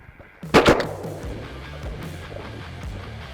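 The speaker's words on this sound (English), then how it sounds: "Good shooting there." A single loud shotgun blast rings out during a South Texas duck hunt for wigeons, pintails and redheads, close and sharp, with a rumbling echo trailing off across open country.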